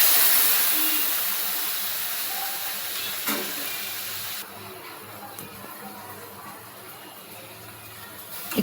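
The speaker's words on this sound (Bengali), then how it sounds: "সাথে আমার ওদিকেও কিন্তু গাঠি কচু ভাজা হচ্ছে" Taro (gathi kochu) frying in hot oil, a steady soft sizzle and hiss that runs the whole time at moderate level, dropping slightly partway through as the frying continues in the background.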